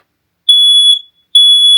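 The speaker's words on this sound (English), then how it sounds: "my smoke alarm went off" A smoke alarm, set off by a hot frying pan while cooking bacon and eggs at a campsite, sounds two loud, piercing high-pitched beeps separated by a short silence.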